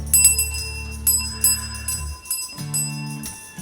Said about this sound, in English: My bell that cleans everything out.